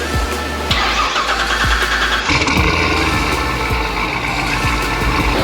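A C7 Corvette fitted with new headers cranks and fires up, the starter whirring briefly before the engine catches with a loud, deep burst and settles into a rumbling, lumpy idle close by, with no voices.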